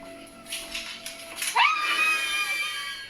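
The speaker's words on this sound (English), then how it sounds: "kids screaming or people screaming will put me on edge a bit" A high, wavering scream rises sharply partway through and trails off, heard over a faint background hum with some muffled knocks before it.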